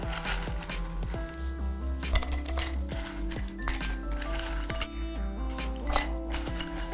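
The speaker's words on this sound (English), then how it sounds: "Now we're gonna add some ice into some beautiful glassware." Ice cubes clink and rattle into glassware for a cocktail, a string of bright, close clinks scattered over several seconds with steady background music underneath.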